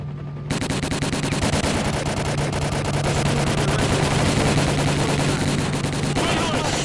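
Sustained automatic gunfire in the video game Stalker: Call of Pripyat, loud rapid machine-gun bursts running continuously for several seconds after a brief quiet start, with a steady low hum underneath.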